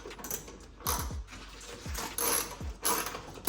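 A ratchet tightening the nuts of a tail light on a BMW F34, quick close runs of clicking pawl turns in several short bursts with brief pauses between them and no talk.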